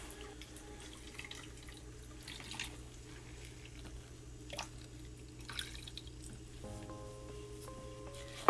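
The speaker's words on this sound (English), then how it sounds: "we want to submerge all of this paper" Paper being pushed under water while making seed bombs: soft, quiet sloshing and dripping water with a steady low hum, close by, with no voices.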